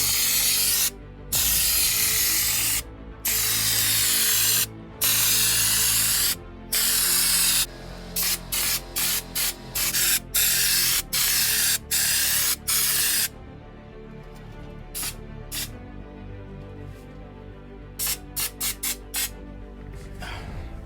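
An aerosol can sprays primer under the cab of a supercharged Toyota Hilux in loud, close hissing bursts, several long ones and then a run of short quick puffs, with faint rattles between and no talking.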